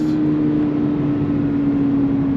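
A 2024 Toyota GR86 sports car accelerates, its engine giving a steady, loud, close drone with a strong sustained tone throughout, heard from inside the cabin with no talking.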